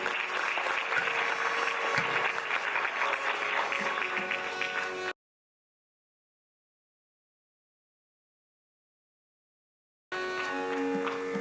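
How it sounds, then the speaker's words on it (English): Applause from the audience at a Bharatanatyam arangetram, moderately loud and sustained, breaks off into several seconds of silence before the clapping resumes briefly. "Give her a big round of applause."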